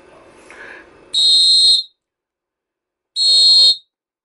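A referee's belt-pack whistle unit gives two loud, piercing electronic beeps about two seconds apart, each lasting roughly half a second, with a little faint noise just before the first.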